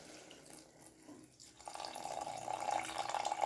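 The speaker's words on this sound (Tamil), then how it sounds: "இப்போ நம்ம இந்த அரிசி கழுவின தண்ணியை இதில் சேர்த்துக்குவோம்." Water used for washing rice pours into a cooking pot of greens in a home kitchen, a steady splashing stream that starts softly and grows louder and fuller over a few seconds, with no talking.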